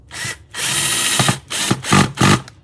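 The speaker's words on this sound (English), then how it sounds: "Getting the holes drilled and all that stuff for the body, that takes a little while." A power drill bores holes in a Telecaster guitar body, with several close, loud whirring bursts of varying length and short pauses between them.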